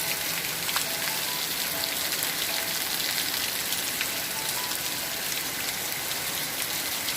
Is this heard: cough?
no